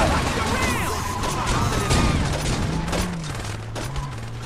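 Rapid gunfire from a car speeding through city streets in Saints Row 2, bursts of shots and impacts over a droning engine, with voices talking throughout.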